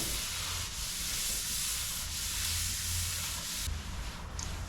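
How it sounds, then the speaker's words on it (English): Steady, close sanding of a bench top by hand with fine 240 grit sandpaper, a continuous dense rasping hiss with even back-and-forth strokes and no pauses. "Using 240 grit sandpaper, let's give it a fine sand to clean and key the surface up"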